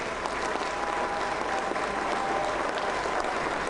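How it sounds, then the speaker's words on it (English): Steady, full applause from a crowd gathered to mourn former Zambian President Rupiah Banda, continuous clapping with no break throughout. "A round of applause"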